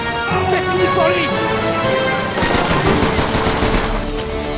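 Gunfire in the World War II shooter Call of Duty 3, a dense burst of rapid shots crackling through the second half under continuous game noise and music, with loud, steady intensity.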